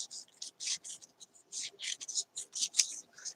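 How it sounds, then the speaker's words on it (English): Scissors snipping through a paper napkin in short, quiet, irregular cuts, close up with soft papery rustling between snips. "I'm just going to cut the purple out"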